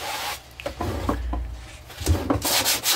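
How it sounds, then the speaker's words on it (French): Sandpaper rubs across the top of a finished wooden storage box built to hold an angle grinder, short scratchy strokes rising and falling in an uneven rhythm, close and fairly quiet. "Je termine un petit coup de ponçage sur le dessus."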